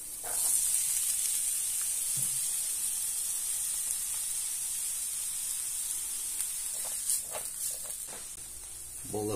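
Chopped onion sizzles in a pan with garlic, giving a steady, even hiss that holds throughout, with a few faint clicks and taps.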